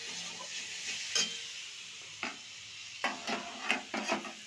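Spices and tomatoes fry in a pan with a steady background sizzle, and a spoon stirs and scrapes in several distinct bursts.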